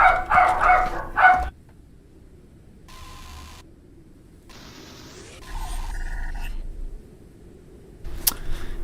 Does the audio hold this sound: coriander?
no